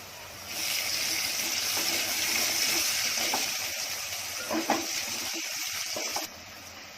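Onions fry in a pan with a steady, soft hiss and sizzle that fades slightly toward the end, with a few small clinks and no speech.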